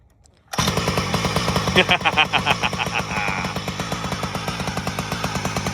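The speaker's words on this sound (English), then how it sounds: "we are going to fire it up and see what happens" A small engine fitted to a homemade kitchen stool racer starts abruptly after a moment of quiet and keeps running loud and close, a buzzy, rapidly pulsing idle with a few revs early on, like a weed whacker.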